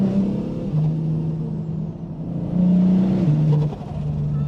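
A 700 hp single-turbo BMW M4 engine revs with a deep, droning tone that rises and falls in pitch, swelling louder near the end, sustained and close throughout.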